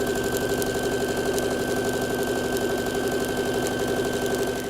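Sewing machine stitching a quilt block, a steady close mechanical whir with fast even needle rhythm running continuously, no talk.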